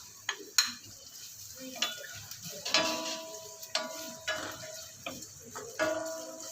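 Garlic and onion sautéing together in a hot pan, a soft steady sizzle broken by repeated sharp clinks and scrapes of a utensil against the pan, heard up close.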